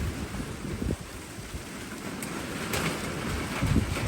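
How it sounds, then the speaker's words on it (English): Heavy rain pours down in a severe spring thunderstorm in southeast Ohio, a steady broadband wash that swells slightly louder toward the end, with no voices. "all that right there is complete rain"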